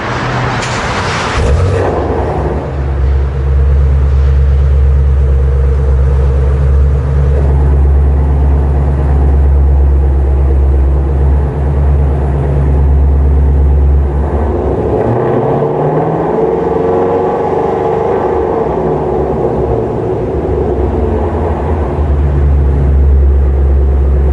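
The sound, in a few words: sports car engine lopey cam idle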